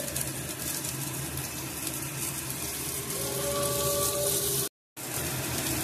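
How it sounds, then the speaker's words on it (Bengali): Onions hiss steadily in hot oil with a constant broadband sizzle, briefly cutting out near the end before resuming; no talking. "এবার পেঁয়াজগুলো দিয়ে দেয়া হলো।"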